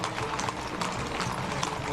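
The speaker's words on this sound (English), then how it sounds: "There's got to be almost 100 horses in this entry." Close to a hundred horses from one entry at the 2019 Stemilt Growers Grand Parade clop along the street, with hoof strikes overlapping into a dense, bright rattle under a steady crowd hubbub.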